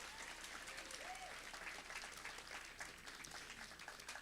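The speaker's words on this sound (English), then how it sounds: "Let's give her a round of applause, Mrs. Mesa." Steady, dense applause from an audience at a school award ceremony, a continuous wash of many hands clapping in a room, moderately distant, with faint voices mixed in.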